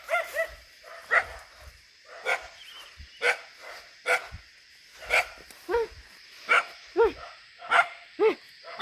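Dogs bark repeatedly in a rural setting, with sharp barks arriving every second or so, fairly near and moderately loud.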